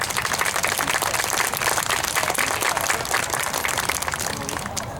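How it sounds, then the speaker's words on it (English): A crowd claps at a community celebration event, with sustained, dense applause filling the room. It stays loud and even and eases slightly only at the very end. "how about a round of applause for Cole?"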